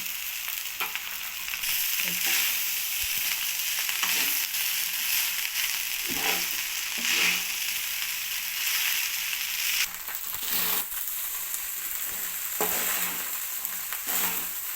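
Rice being stirred into sizzling masala in a hot pan, with steady frying hiss and repeated scraping, clattering stirs throughout, no talk.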